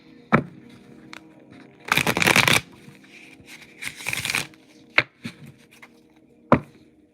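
Tarot cards shuffled by hand during a live reading, with two dense riffling bursts and scattered soft taps and card slaps between them, close and fairly quiet.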